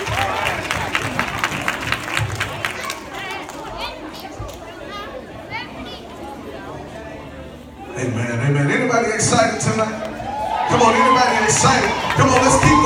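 A gospel church congregation cheers, claps and shouts in a loud, sustained swell that fills the room, with the din rising again in the last few seconds.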